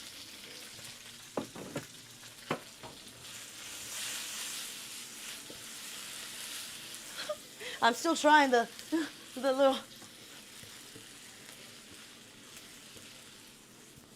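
Steady sizzling of broccoli in a hot pan, with a voice speaking briefly in the middle over the crackle.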